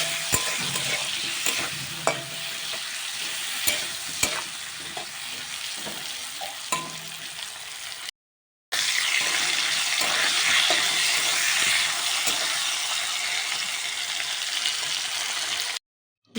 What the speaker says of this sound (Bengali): দিয়ে নাড়াচাড়া করে বেশ ভালোভাবে ভেজে নিচ্ছি